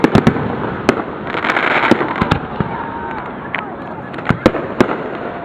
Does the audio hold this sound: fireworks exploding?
yes